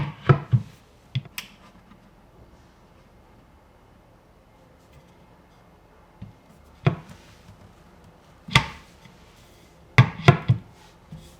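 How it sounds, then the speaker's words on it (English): Cabinet hinges on a media console snap into place: several sharp snaps and clicks in small clusters, separated by quiet pauses, close and crisp with no talking. "I can snap the hinges one last time"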